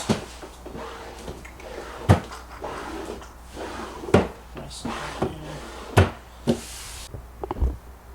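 Several wooden cabinet doors on an IKEA Linnmon desk clunk and thud as they're opened and handled, sharp knocks spaced a couple of seconds apart, close by.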